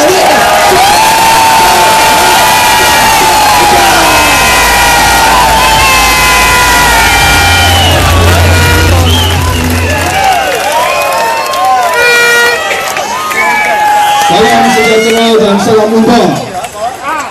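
A large audience of about ten thousand at a speaking event cheers, shouts and claps loudly and continuously to welcome the guest speaker, with voices rising in a dense roar.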